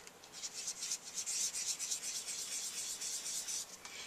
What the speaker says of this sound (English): I have my handy dandy electric eraser